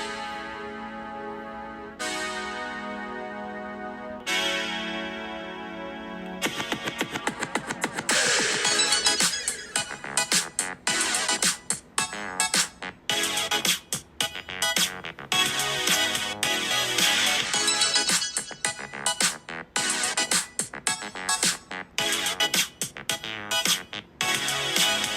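Music plays through a Galaxy S24 Ultra phone's small, thin speaker, bright and lacking mids and bass: a few plucked notes first, then a busier beat-driven passage.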